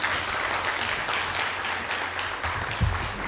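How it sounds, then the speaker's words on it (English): Continuous audience clapping at an awards ceremony, moderately loud and even, with a few individual claps standing out from the crowd. "I think we should give her another round of applause."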